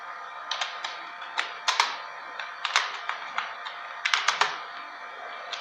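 Someone types on a computer keyboard in short bursts of quick, light clicks with brief pauses between them, close and quiet, with no talk.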